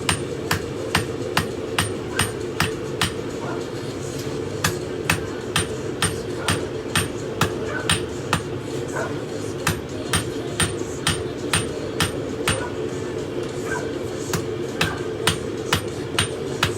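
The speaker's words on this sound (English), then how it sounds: "this is the hand forging part" Steel is hand forged into a BBQ fork, the tines being drawn out under a hammer: sharp, ringing blows fall in a steady, even rhythm, roughly two per second, loud and close over a continuous low forge roar.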